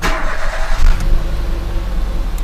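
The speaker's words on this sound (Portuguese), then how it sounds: "com o carro bom ligado, a gente vai ligar o carro que está com a bateria ruim" A car with a weak battery cranks and starts after a jump start, the engine catching and running with a loud, steady low rumble close by.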